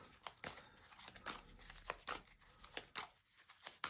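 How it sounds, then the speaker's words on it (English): Soft papery shuffling and riffling of tarot cards, quiet and close, in a few brushing bursts with brief pauses between them. "So just going to shuffle your cards now."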